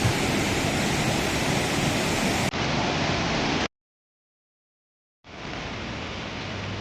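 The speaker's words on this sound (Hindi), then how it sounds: "हेवन नदी इस समय प्रचंड उफान पर है" The Heval river at Khadi in Tehri Garhwal rages in heavy flood after torrential rain, a loud, constant roar of rushing water that cuts out abruptly for over a second before returning.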